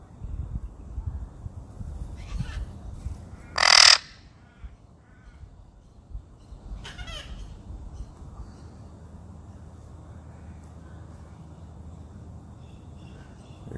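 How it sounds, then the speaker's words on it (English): A chicken squawks from up in a tree during a thermal-camera outing: one loud, sharp call near the middle stands out against quiet outdoor background noise, with a fainter call following. "chicken's around here somewhere and he's squawking at me"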